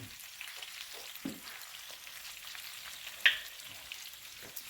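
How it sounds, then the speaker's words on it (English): Fresh garlic frying in butter in a pan makes a quiet, steady sizzle, broken by a few faint clicks and one sharper tap midway. "We're going to throw some fresh garlic in."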